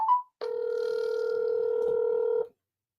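A single steady electronic phone ring tone sounds for about two seconds, clear and close, after a brief short beep.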